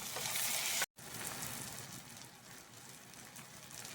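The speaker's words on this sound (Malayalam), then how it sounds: "ഇഞ്ചി വെളുത്തുള്ളി പേസ്റ്റ് ഇട്ടിട്ടുണ്ട്. അതിൻ്റെ പച്ചമണം പോകുന്നത് വരെ നമുക്കൊന്ന് ഇളക്കി കൊടുക്കാം." Ginger-garlic paste sizzles and fries in a pan as it is stirred, a steady broadband hiss that drops out for an instant, then resumes slightly softer and continues alone without talk.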